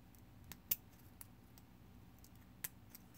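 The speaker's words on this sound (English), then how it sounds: "I'll cut this right down the middle like this" Scissors snip through a five-point harness material to cut small pieces, with a few sharp, distinct clicks spread across a quiet background and no talking.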